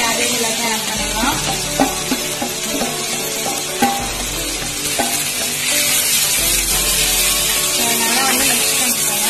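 Crispy fried cabbage is tipped into a pan and stirred, a loud steady sizzle with occasional scraping, heard under background music.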